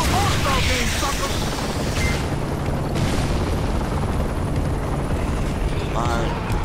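Helicopter rotor in the Gears of War: Judgment video game, a steady loud whirring drone mixed with booms and gunfire throughout, with voices talking over it.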